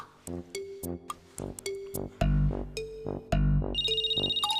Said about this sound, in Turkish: Ev telefonu değil ki. Benim cebim çaldı.